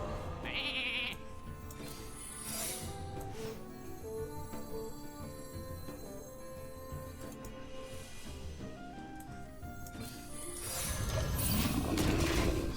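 Hearthstone game sheep bleats, a couple of short bleats early, set among chiming card-game effects and background game music, ending in a louder whooshing effect.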